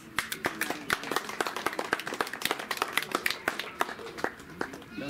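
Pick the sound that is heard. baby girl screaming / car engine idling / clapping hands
clapping hands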